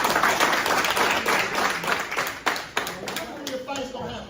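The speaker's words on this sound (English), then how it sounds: "Clap it up for you, Jim." Audience clapping in a conference hall at a leadership event, a dense, steady burst of many hands that fades slightly near the end, with a voice speaking over it.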